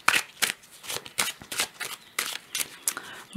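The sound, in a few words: shuffling cards for a card reading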